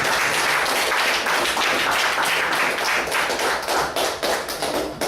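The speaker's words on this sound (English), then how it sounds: "Let's give a great round of applause for the TMO government." An audience at a closing meeting breaks into sustained applause, a dense, loud wash of many hands clapping that carries steadily for several seconds before tapering slightly.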